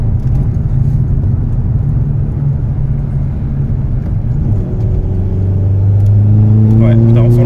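A tuned Seat Ibiza 6L engine drones steadily at a low pitch, then revs up with a rising, accelerating tone near the end, loud and close, with people talking over it.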